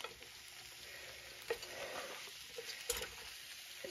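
Mushrooms and a small onion cooking in a pan, giving a steady soft sizzle with a few brief stirring clicks and scrapes, faint and close, with no talking.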